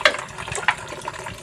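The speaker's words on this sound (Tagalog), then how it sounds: "Atong butangan sa tubig." Water is poured into a container at home, a short splashing trickle with a couple of brief gushes, close by and without talk.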